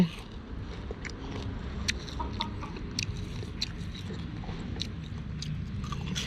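Close crunching as fried shrimp heads are bitten and chewed, repeated brittle cracks over a low background murmur.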